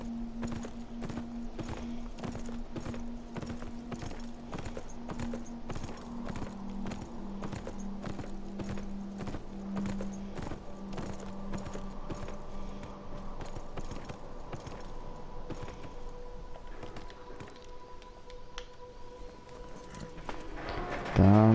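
Rhythmic horse hooves clip-clop steadily throughout in the video game Beyond: Two Souls, near and continuous, with a sustained musical tone and a loud thump at the very end.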